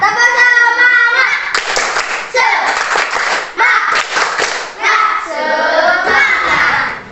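Classroom children in an Indonesian primary school chant together in loud unison and break into bursts of rhythmic group clapping between the shouted lines, close and energetic.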